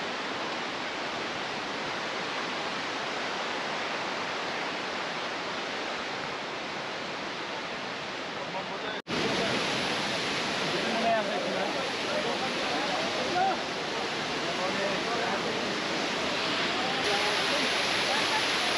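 A mountain waterfall on the Amarnath Yatra trek between Chandanwari and Sheshnag makes a loud, steady rushing roar. The sound cuts sharply about halfway through and then continues just as dense.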